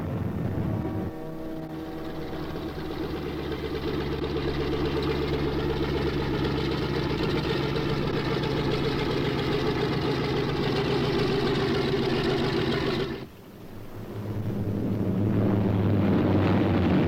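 Steady drone of a B-26 bomber's piston engines, a continuous mid-to-low engine hum that holds evenly for about twelve seconds, then briefly drops out before returning.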